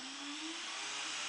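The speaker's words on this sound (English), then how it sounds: "I'm going to drill the initial pilot hole with a 1/8 drill bit" A 1/8 drill bit boring a pilot hole into a fitting for a remote fuel tank kit on a Yamaha EF2000iS generator, a steady high whine that rises slightly in pitch and continues unbroken at close range with no talk.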